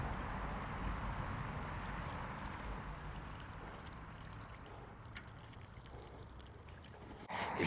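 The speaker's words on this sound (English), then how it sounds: "I'm going to go ahead and water it in with a little rainwater" Rainwater is poured over freshly covered pepper and tomato seeds, a steady soft splashing trickle that runs without a break for several seconds, close by and alone, ending in a brief rustle.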